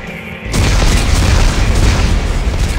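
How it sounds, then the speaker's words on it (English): Explosives detonate in Dead Space 3 with a sudden massive boom that swells into a sustained, loud, rumbling roar filling the space, with no voices. "Computer, arm explosives."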